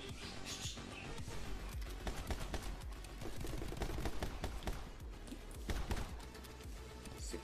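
Rapid video-game gunfire in dense bursts of cracking shots and clattering rounds, loud and continuous with short pauses, while a voice speaks faintly underneath.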